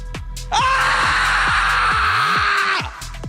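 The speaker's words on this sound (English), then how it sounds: "Come on, get screaming" A person screaming as loud as possible in a volume contest at a live League of Legends esports event, one sustained loud scream lasting about two seconds over rhythmic background thumps.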